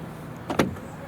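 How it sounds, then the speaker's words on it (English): A key turns in the driver's door lock of a Volvo XC, giving two quick close mechanical clicks over faint background hiss. "Now the door is unlocked."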